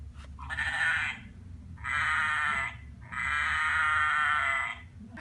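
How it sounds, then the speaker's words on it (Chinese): Sheep bleating from a pull-tab farm sound book: three long, wavering bleats close up, the last the longest, each separated by a brief pause, with no talking. "那现在让我们来听听看绵羊的叫声吧。"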